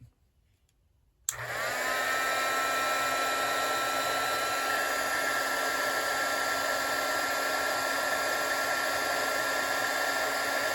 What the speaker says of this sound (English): Don't leave it loose on here when you heat up your heat gun.